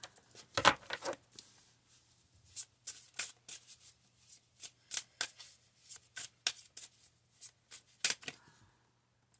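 Tarot cards shuffled by hand for a reading: a long run of quick papery riffles and flicks in irregular bursts, close and fairly soft, with no talk over them.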